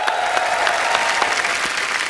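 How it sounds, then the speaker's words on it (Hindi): Loud, dense audience applause fills a comedy talk show studio, greeting an actor's sister with continuous clapping throughout this short stretch. "इनके लिए भी जोरदार तालियां।"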